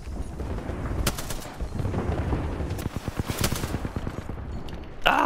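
Automatic gunfire in an Apex Legends match: rapid bursts of close, sharp shots crackling over continuous battle noise, with a dense rattling volley in the middle and a heavier blast at the very end.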